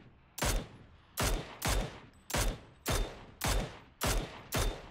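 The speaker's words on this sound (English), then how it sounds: "What'd you shoot at, bud?" Eight rapid single gunshots from a PUBG squads match ring out at an even pace, each a sharp loud crack with a trailing echo, with no talking over them.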